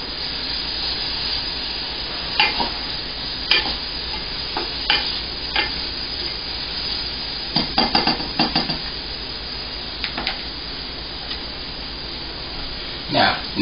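Onions, mushrooms and garlic sizzle in a hot pan for chorizo-stuffed mushrooms, with bursts of spoon scraping and clatter against the pan. The sizzle is close and continuous, and someone talks over it.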